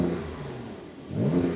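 Supercar flat-six engine with a sport exhaust, 580 horsepower, accelerating close by, a rough engine note that dips briefly then swells into a louder rising roar.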